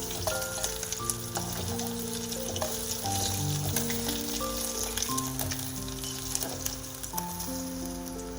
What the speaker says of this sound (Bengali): মাছগুলো ভাজা হয়ে গেছে, এবার আমি তুলে নিচ্ছি।